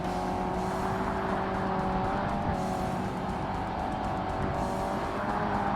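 A race car in Forza Motorsport on Xbox holds full throttle, its engine a steady, loud, continuous drone with faint tire noise throughout and no talk.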